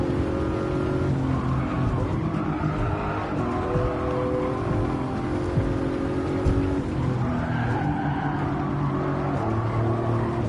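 A race car drifts in Gran Turismo 7 on a Tokyo circuit, its engine droning loudly as tires squeal and skid in long wavering howls that rise and fall throughout, with no talking.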